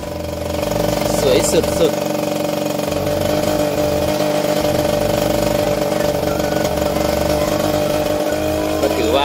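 A saleng motorcycle with sidecar rumbles steadily as it rides along a rough track between rice fields, its engine drone continuous and close throughout, with someone talking excitedly over it.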